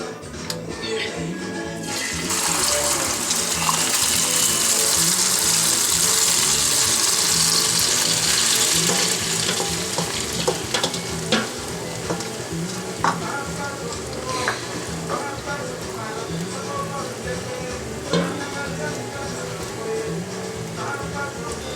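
Omelette with fries cooking in a frying pan, a loud steady sizzle that starts abruptly as the mixture hits the hot pan, then settles into continuous close frying with occasional scraping and stirring.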